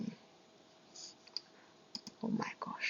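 Soft scattered clicks of keys being tapped on a keyboard, quiet and close, with faint background murmur.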